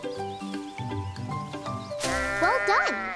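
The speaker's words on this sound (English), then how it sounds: "This bush sounds like a sheep." Music plays, then a sheep bleats loudly in a couple of wavering calls close by.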